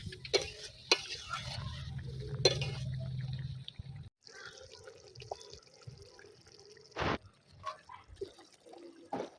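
Pointed gourd (potol) for potol korma is stirred in a pan, with sharp scraping strokes over a low sizzle, then a quieter stretch of hissing and occasional clinks.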